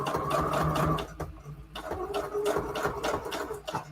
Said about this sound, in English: Let me get close to the machine because I actually have to like sew around the edge for this